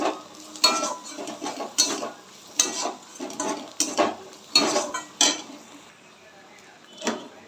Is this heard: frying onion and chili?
yes